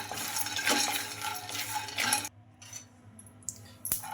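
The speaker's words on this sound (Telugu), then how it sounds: "ఇందులోకి పల్లీలు అయితే వేసుకుంటున్నా ఈ ఈ పల్లీలు అయితే కొద్దిగా ఫ్రై అవ్వాలి" Peanuts tossed into a hot kadai, a dry rattling scatter and stirring clatter for the first two seconds, then quieter light scraping with a few sharp metallic clinks near the end.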